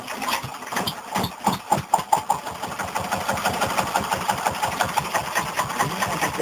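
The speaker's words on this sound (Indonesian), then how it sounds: "warga desa ini hanya mengandalkan sebuah mesin genset yang dibeli secara patungan oleh warga" Diesel generator set running in a village, a steady mid-pitched engine chug with rhythmic pulsing throughout, close and continuous.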